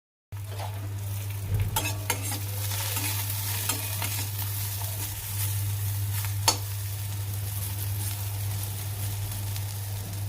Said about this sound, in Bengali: তাই করলাগুলো একটু ভাজলাম, ভেজে যাতে ফোড়ন দিয়ে ডালটা করব।